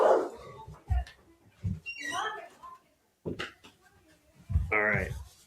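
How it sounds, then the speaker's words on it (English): Several dogs barking in agitated bursts nearby, with yips and whimpers, mixed with someone talking. "The dogs are going nuts."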